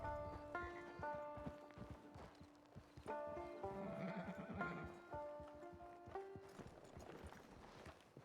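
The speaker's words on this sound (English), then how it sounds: "It's your horse." A horse whinnies twice against steady clip-clopping hooves in Red Dead Online, with soft game music in the background.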